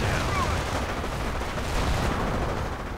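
Rapid gunfire and artillery booms from a WWII strategy game battle, with a German Flak 88 gun firing away amid steady, dense, loud combat noise throughout.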